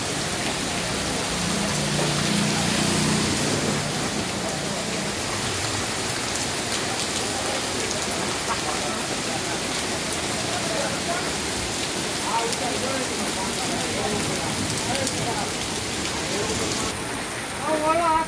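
Heavy rain pours steadily over a boys' hostel compound, a dense, unbroken hiss of falling water that never lets up, with faint voices at moments.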